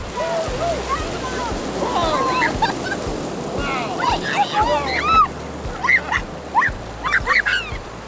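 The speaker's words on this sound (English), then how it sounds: "the beach here with the waves crashing" Ocean waves wash steadily onto a wild Vancouver Island beach, a continuous rushing roar beneath loud honking and squawking calls of geese or gulls nearby.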